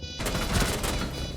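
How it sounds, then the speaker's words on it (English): Rapid bursts of gunfire in a competitive esports match of a shooter video game, a dense, loud volley of shots that lasts about a second. "He sees the gunshots."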